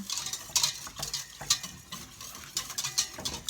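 A whisk works through a thickening oat milk sauce in a pot, breaking up lumps with quick, close scraping strokes and regular metallic clinks against the sides, no talking.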